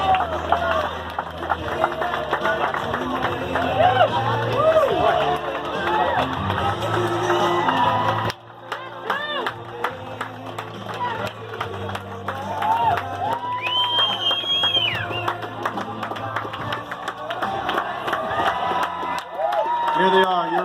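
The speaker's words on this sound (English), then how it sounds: "Let's give them a round of applause." An audience at a Los Angeles Fire Department academy graduation claps and cheers in a sustained loud wave, with whoops and shouts over the clapping. After a brief dip, the applause resumes, and voices mix in throughout.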